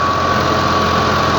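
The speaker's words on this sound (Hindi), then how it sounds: "अज मैं अपने दोस्तों वास्ते लिया अलगाजी ट्रैक्टर" Al-Ghazi tractor engine running with a 60-cutter rotavator while preparing potato fields, a loud, steady mechanical drone with a constant whine, close and unbroken for a brief moment.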